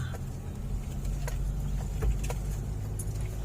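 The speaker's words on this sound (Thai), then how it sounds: "รถเก๋งก็มาเฉยเลย" Sedan climbing a hill road, a low steady engine and road rumble heard from inside or near the car, with scattered light rattles and clicks over it.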